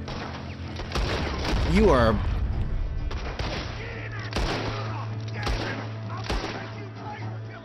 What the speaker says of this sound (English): I feel like gunfire is sort of an overreaction